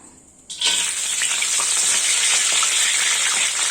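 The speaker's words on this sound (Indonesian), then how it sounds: "Kita tumis dia sehingga baunya naik." Cinnamon and star anise hit hot oil, an abrupt loud burst of sizzling that settles into a dense, steady crackle, close and with no talking.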